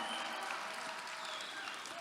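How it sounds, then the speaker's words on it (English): Crowd applause at an America First political rally in Dalton, Georgia: a dense, steady wash of clapping and cheering from a large audience, heard at some distance with no pauses. "Lord, hear those applause. Those are shouts of love and enthusiasm for Donald Trump."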